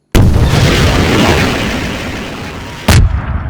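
Weapon fire in the video game Nico's Nextbots: a loud, sustained burst of booming gunfire, followed a few seconds later by a second sharp blast, with no talking.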